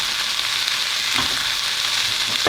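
Carrots and zucchini fry together in a pan, a close, continuous sizzle with a soft stirring scrape or two.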